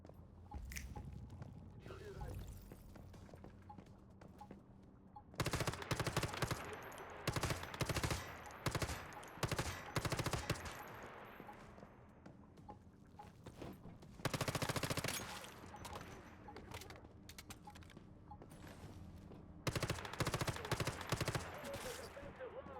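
Submachine gun fire in the tactical shooter Lone Survival, loud rapid bursts separated by quieter stretches of low rumble and scattered shots.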